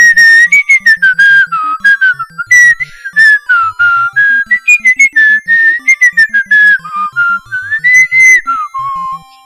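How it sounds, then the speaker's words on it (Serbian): A person whistling a tune up close, loud and clear, with a melody of held and sliding notes in short phrases and brief pauses between them. "Kako volim da zviždim"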